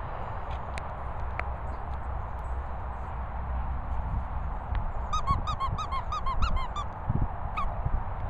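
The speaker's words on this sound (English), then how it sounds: "Squeaks." A Staffordshire bull terrier lets out a quick run of high, rhythmic squeaks near the end, close and fairly loud over a low background rumble, with a few scattered clicks before.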